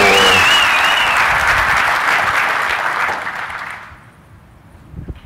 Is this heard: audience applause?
yes